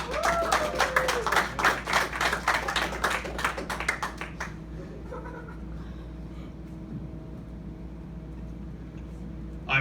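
Audience applause and clapping as a comedian and inspirational speaker walks on stage, energetic rhythmic clapping from a room crowd for about four seconds that drops off quickly into quiet room noise.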